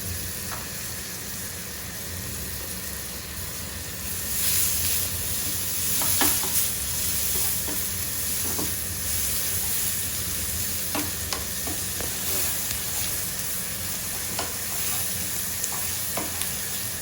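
Sliced onions fry in a pan with a steady, close sizzle throughout, punctuated by occasional sharper crackles and stirring clicks.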